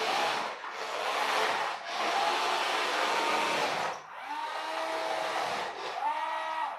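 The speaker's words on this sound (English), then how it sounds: "that sounds like there's a gear missing on the gearbox" Gearbox of a push-along toy car converted to RC, grinding and slipping as if missing a gear, a harsh broadband whirring in several bursts with short dips, rising pitch whine in the later bursts, no talking.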